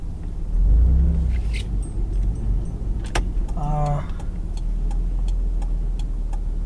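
A Mitsubishi 3000GT engine holds steady at 2,500 RPM, a low continuous drone from inside the car with scattered light ticks and clicks over it.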